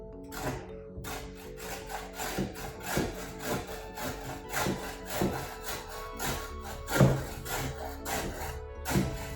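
A child rubs cabbage back and forth across a grater for sauerkraut, a steady scraping rasp of quick repeated strokes, moderately close and fairly quiet, with no one speaking.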